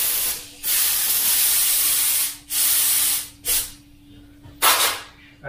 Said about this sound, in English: get yourself an air blower. You can use your spray gun.